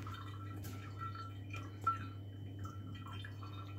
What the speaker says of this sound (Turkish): Şimdi kaşıkla yavaş yavaş yine süzelim.